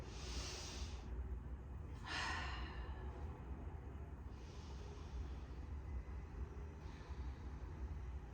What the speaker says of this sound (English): So we'll take a couple deep breaths right there.